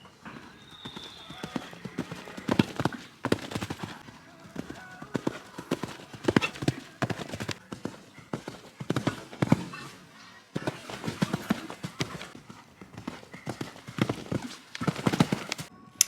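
A horse's hooves clip-clop steadily while being ridden around a show jumping course, moderately close, with occasional voices and background noise from the event.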